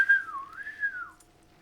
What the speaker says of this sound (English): I still hear whistling.